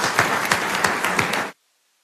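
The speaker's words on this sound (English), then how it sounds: "Give yourselves a round of applause." Applause from the audience at a township committee meeting in Middletown, a brief burst of dense clapping that stops abruptly, leaving silence.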